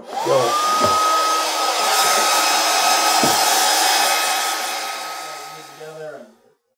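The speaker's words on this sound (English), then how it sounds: "get out our hair dryer" A hair dryer blows steadily at close range with a constant whine, running for several seconds before winding down at the end.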